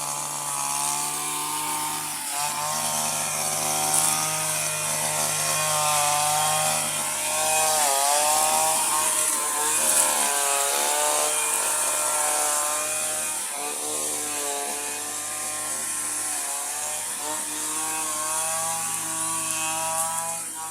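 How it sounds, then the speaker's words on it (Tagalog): A grass cutter labors through very thick grass, its small engine whining loudly and continuously, the pitch sagging and rising as the blade bogs down and recovers. No one speaks. "Sobra lang talagang kapal ng mga damo, kaya yung grass cutter yung talagang hirap."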